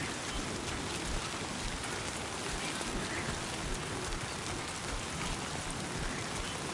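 Timefall rain in the video game Death Stranding 2 falls as a steady, dense hiss of raindrops on surfaces, even and unbroken throughout with no voices.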